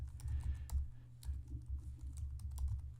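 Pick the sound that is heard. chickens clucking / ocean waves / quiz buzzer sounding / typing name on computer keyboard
typing name on computer keyboard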